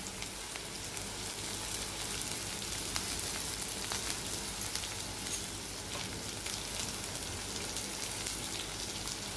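Onion and fenugreek leaves frying in a pan, a steady close sizzle with faint crackles and small pops throughout, no talking.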